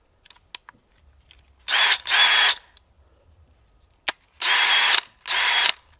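A hammer drill with a cement bit bores into cement in four short bursts, loud harsh rattling hammering with pauses between, each pair of bursts preceded by faint clicks and handling noise.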